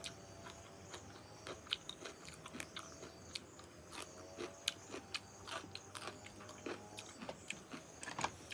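Boiled snails are eaten up close: a quiet, irregular run of small crunches, bites and slurping chews repeating throughout, with no talking.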